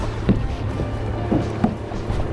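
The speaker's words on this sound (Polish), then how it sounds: "O, motorówka za mną." A motorboat passes behind a kayak on the water off Spain, heard as a low, steady engine hum beneath wind and occasional paddle splashes and knocks.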